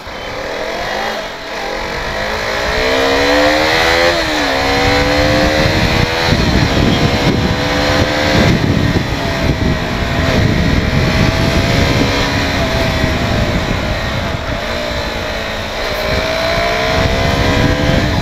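A 200cc non-ABS dirt bike being ridden, its engine running steadily and loud close by with rising and falling revs as it accelerates and shifts, plus wind noise throughout.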